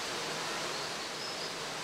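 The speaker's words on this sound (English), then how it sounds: "The sound of the river seems different to me." River water flowing steadily in a natural setting among wildflowers and moss, a continuous broadband rush with no breaks, moderately faint and heard alone.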